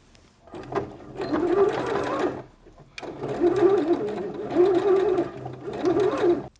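Sewing machine stitching a seam on a homemade summer dress, running in two steady whirring bursts separated by a short pause, close and fairly loud.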